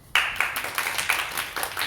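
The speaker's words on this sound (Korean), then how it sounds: "박수 한번 주세요." Congregation clapping during a Korean church New Year thanksgiving service: a burst of applause starts abruptly, fairly loud and close, with crisp hand claps repeating in a loose rhythm and no talking over it.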